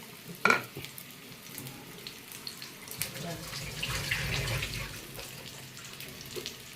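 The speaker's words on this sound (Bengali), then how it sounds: "এটা লাল করে ভাজতে হবে" Food for a paneer roll frying in oil until browned, a soft sizzle running under clatter and a brief burst of running tap water, with some faint indistinct voice nearby.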